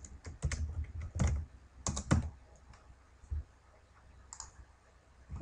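Fingers tap out dummy text on a computer keyboard, quiet irregular clicks and key strikes arriving in short bursts with small pauses, close and alone.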